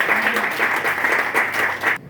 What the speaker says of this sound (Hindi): इन सबके लिए एक बार जोरदार ताली होनी चाहिए, जोरदार ताली।